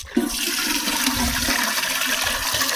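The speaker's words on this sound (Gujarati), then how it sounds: "જો આપણે પાણી ભરી લઈએ હવે" Water gushing loudly into metal cooking pots, starting abruptly and then rushing on steadily and close by without pause, with no talking.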